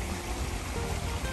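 Storm water rushing down a rocky ravine and carrying debris, a steady broad wash of flowing water that stays loud and even throughout, with no voices.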